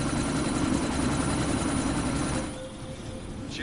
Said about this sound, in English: That chopper's about to take